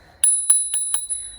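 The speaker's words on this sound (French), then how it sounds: "petite sonnette." A small bicycle bell on a disc-brake bike rings four times in quick, even succession, bright and close, with no other sound around it.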